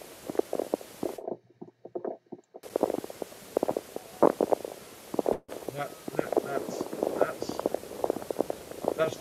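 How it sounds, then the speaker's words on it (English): Faint, close scratching and tapping of eider duck chicks chipping at their eggs beneath a brooding female, irregular soft clicks with a low rumbling undertone and speech over it. "That's the sound of the chicks chipping away at the eggs"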